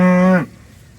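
A beef cow gives one loud, close, deep moo that ends abruptly, leaving quiet outdoor background.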